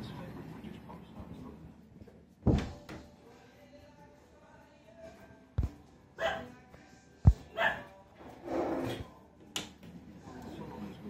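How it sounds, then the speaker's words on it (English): A pet dog barks indoors while someone hangs Christmas lights, a few short sharp barks and whines spaced out over quiet room tone, fairly close. "Videoing her because she can't stop barking"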